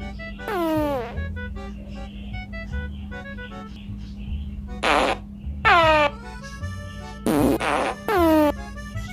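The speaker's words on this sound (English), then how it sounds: "There are four voices and four of them are fart noises." Cartoonish fart sound effects from a prank app play in several separate bursts, some long and wavering, others short and paired, over a steady low hum.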